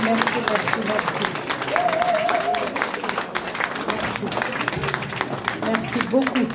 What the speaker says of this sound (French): Donc un tonnerre d'applaudissements pour ces femmes.